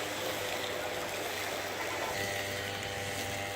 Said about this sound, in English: You can actually see it bubbling over there.